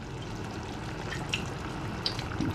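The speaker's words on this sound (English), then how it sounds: "So just add in the water" Water is poured into a pot of fish stew, a soft continuous splashing and trickling that runs the whole time at moderate level, with faint clinks near the end.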